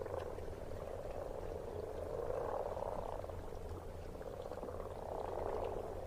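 Dense chorus of many frogs croaking together at a pond, a continuous rhythmic croaking mass swelling and easing, with steady low background sound and no talk.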